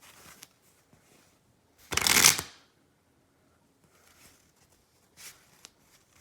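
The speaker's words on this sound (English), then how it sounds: "We just shuffled the cards just like that." A deck of playing cards is shuffled in one quick, loud riffling burst, with softer card handling taps before and after in an otherwise quiet room.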